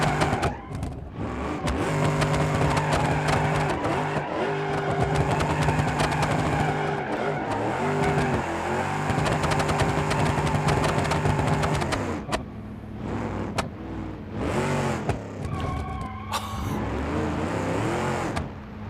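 An Impala car in the BeamNG.drive video game attempts to drift, its engine revving hard and steady with screeching tires, cutting out briefly before roaring back in uneven bursts.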